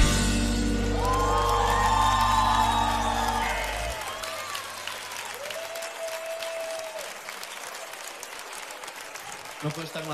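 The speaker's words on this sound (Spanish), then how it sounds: "Te pega un aplauso grande" Big, loud audience applause with some cheering after a live acoustic performance at LOS40 Básico. It swells over the closing music and then continues steadily on its own.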